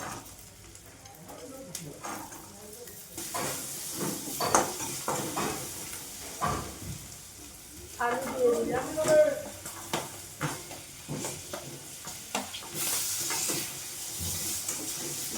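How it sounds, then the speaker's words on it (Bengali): Shelled green peas added to a hot wok with ginger and turmeric for a cauliflower and tengra fish curry, sizzling and hissing with irregular stirring scrapes, while a person talks intermittently nearby. "পরিমাণ মতন কড়াই কড়াইশুটি ছাড়ানো দিচ্ছি"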